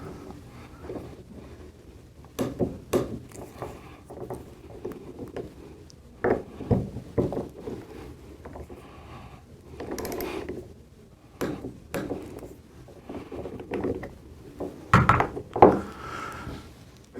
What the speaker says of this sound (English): until you hear the torque wrench click. Click it twice.